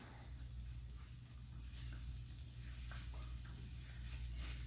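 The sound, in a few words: red onion frying in a pan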